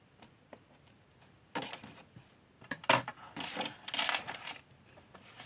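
Scissors cutting paper diagonally for a handmade gift pouch: a few close, crisp bursts of snipping and rustling paper, separated by quiet pauses.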